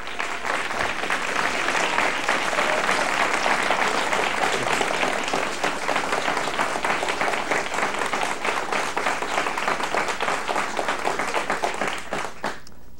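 A studio audience at a QUBE cable television first-anniversary special claps steadily and loudly, a dense sustained wave of applause that carries on throughout before tapering slightly at the end.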